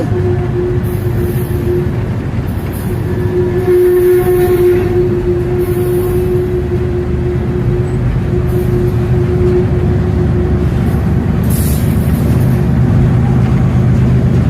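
A freight train rolls past with a steady, continuous rail rumble and a faint sustained tonal hum, holding loud and even throughout with no talk.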